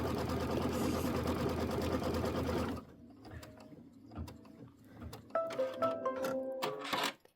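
A sewing machine runs a quilting stitch in seafoam thread across a flattened Kimberbell mini quilt: a loud, steady whirring stitch run for about three seconds, then stopping, followed by quieter clicks and handling of the machine.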